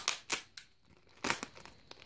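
A few quick, crisp snips and crinkling cuts as scissors or a knife open the packaging of a metal-gear servo for a Tamiya Neo Fighter DT03 RC car. The cuts are close and come in two short bursts, with no talking.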